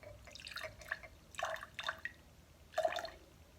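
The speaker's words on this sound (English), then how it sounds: "Then you need to put a small amount of water into the bottom of your glass." A small amount of water goes into the bottom of a glass for a capillary-action demonstration, heard as a few faint, separate splashes and drips at close range, with quiet pauses between them.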